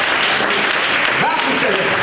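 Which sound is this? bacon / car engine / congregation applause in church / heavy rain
congregation applause in church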